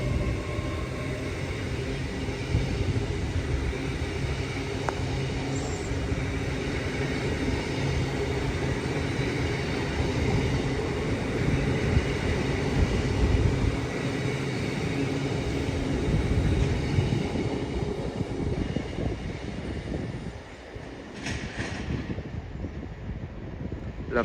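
A train rumbles through Peterborough station on the East Coast Main Line, a sustained close roar with wind buffeting that fades toward the end.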